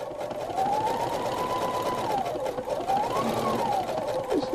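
A regular domestic sewing machine stitches around an appliqued fabric circle with a steady, close motor whir whose pitch rises and falls as the speed changes, with no voices.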